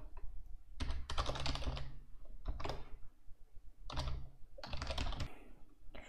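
Computer keyboard typing in a software setup, rapid key clicks arriving in several dense bursts separated by short pauses, close and clear with no voice.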